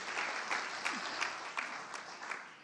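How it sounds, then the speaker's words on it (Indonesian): Church congregation at a Sunday worship service clapping in steady rhythmic unison, a dense wash of hand claps with faint voices underneath. "Sorak-sorai untuk Tuhan."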